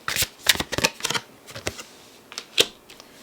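Tarot cards shuffled in quick riffling bursts, several crisp flurries of papery snaps close by, with short pauses between them and no talk.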